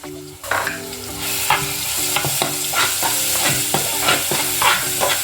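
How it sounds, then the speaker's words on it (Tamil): Ground masala paste sizzles and crackles in hot oil as a spoon scrapes and stirs the pan in repeated strokes, close and steady. "இந்த அரைச்சி வச்சுருக்க மசாலாவை போட்டு வதக்கிக்கிறேன்"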